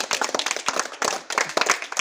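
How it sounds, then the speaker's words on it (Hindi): Children in a primary school classroom clap together in a quick, slightly uneven rhythm. The clapping is close and lively, with many sharp individual claps running for about two seconds. "ताली बजाओ यार इनके।"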